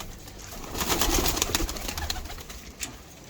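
A female pigeon coos close by in a breeder's loft, a short cluster of soft throaty calls amid flutters and background bird noise.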